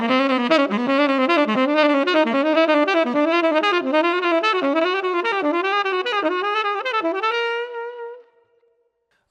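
Solo saxophone runs a fast, fluid repeating melodic pattern, notes cascading up and down in a steady rhythm before a final held note fades out.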